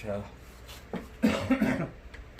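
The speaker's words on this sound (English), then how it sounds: "if you hear me growling and coughing today" A few short, rough coughs with some throat clearing, close and moderately loud, bunched together in quick succession.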